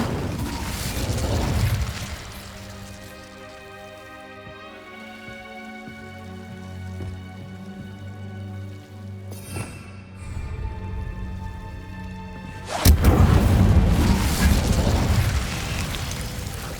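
An Incendio fire spell is cast in Hogwarts Legacy. A loud crackling, whooshing burst of flame opens the sound and another returns near the end, with sustained tonal music and softer effects between.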